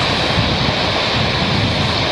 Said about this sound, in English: all around us there's the noise of water falling.